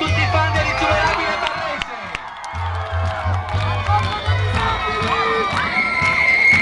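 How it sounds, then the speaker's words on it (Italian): Crowd of fans cheering, shouting and clapping like a stadium audience at a local Italian sports celebration, loud and continuous with children's shouts and a rhythmic low drumming beneath. "Facciamoci un applauso a tutti i fan dell'insuperabile"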